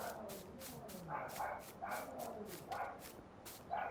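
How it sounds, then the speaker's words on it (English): A dog barks downstairs in a house, a string of muffled, somewhat distant barks at an irregular pace, with a person's voice faintly mixed in. "Oh, the dog's going mental downstairs."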